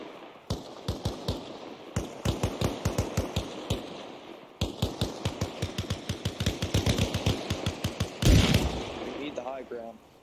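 Rapid gunfire in the video game ARMA Reforger, with steady trains of sharp shots in quick succession across the clip, a brief gap near the middle and a louder blast near the end.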